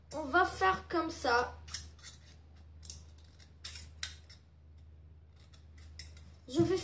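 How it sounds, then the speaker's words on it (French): Scissors snipping through material while making a Bunsen burner, a few quick close cuts and clicks after a short burst of talking, with quieter gaps between cuts. "on va avec le ciseau, on va faire comme ça"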